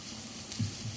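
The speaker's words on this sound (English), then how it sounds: "after you scrape those out of the pan, then you can throw some onions in there." Onions hitting a hot hamburger steak pan and sizzling, a short close burst of frying hiss with a faint thump as they drop in.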